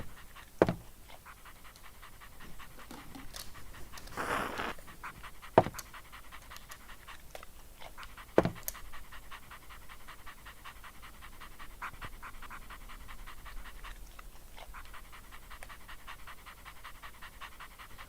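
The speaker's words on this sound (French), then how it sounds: "j'ai mis le chien en extérieur qui bouge beaucoup, qui fait beaucoup de bruit" A dog pants steadily and rapidly for a long stretch, close by, with a few sharper clicks and shuffling bumps scattered through.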